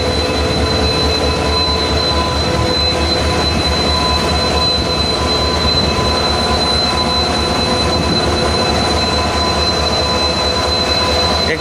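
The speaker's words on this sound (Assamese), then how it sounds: "দুই এখন মালবাহী ট্ৰেইন আহি আছে আৰু ইয়েছ ট্ৰেইনৰ ইঞ্জিনৰ পুৰা সাউণ্ড ওলাই আছে" A freight train engine rolls past at Rangia Junction, loud and close, with steady rumbling wheels and a sustained high metallic squeal running through the whole passage.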